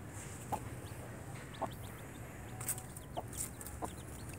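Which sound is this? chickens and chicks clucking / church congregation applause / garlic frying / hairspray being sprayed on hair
chickens and chicks clucking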